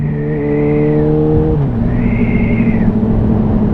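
A Suzuki B-King 1340 motorcycle engine roars loud and close, holding a steady throaty drone with the pitch dropping partway through as revs change.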